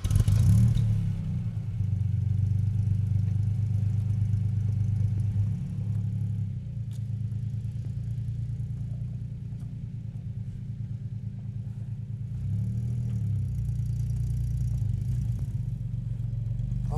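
A 1981 Ford Capri III with the 2.8i engine drives in modern traffic, giving a steady deep rumble that swells near the start and again later, then settles back into an even cruise.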